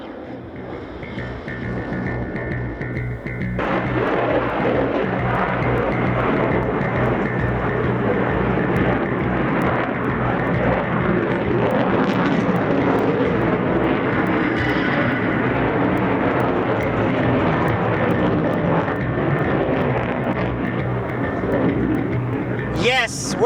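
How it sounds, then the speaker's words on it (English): Italian Air Force Eurofighter Typhoon jet performing at an air show, a loud continuous roar building in after a few seconds and holding for about twenty seconds, with a commentator's voice over the public address beneath it. "the call still goes out to our gladiator of the skies, the Eurofighter Typhoon"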